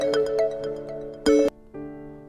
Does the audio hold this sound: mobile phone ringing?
yes